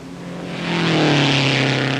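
A loud race car engine at the 1957 Indianapolis 500 roars past at about 180 mph, its pitch rising then sliding down as it speeds by close to the listener.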